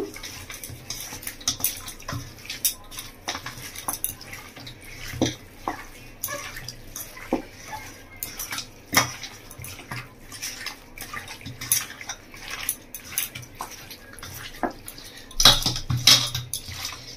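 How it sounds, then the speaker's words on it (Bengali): Chicken being hand-mixed with salt and turmeric in a bowl for a Bengali-style desi chicken kasa, a steady stream of wet squelching and light clinking with scattered louder slaps, near and without talk. "তো লবণ আর হলুদকে ভালো করে মেখে নেব"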